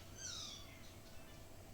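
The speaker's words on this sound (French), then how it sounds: "il n'arrête pas de miauler" A cat gives a short, fairly faint meow over a steady background hum in a room, with no one speaking.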